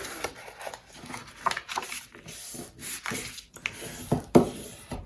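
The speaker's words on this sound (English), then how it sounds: "so you can go ahead and burnish that down" Folded paper on a handmade album is burnished down with a tool, giving close, soft rubbing and scraping strokes in an irregular rhythm with light taps between them.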